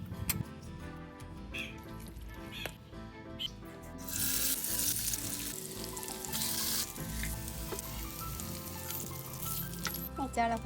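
Sardines sizzle in a pan with green pepper paste, Kerala-style fry; a continuous hot crackle with occasional stirring clinks and scrapes, rising sharply in intensity partway through.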